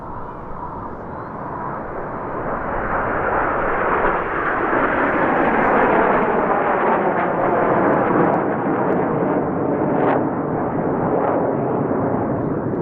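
Frecce Tricolori jets roar overhead while flying a loop at the Quinte International Airshow. The loud, broad rumble swells and holds for the whole stretch with no voices.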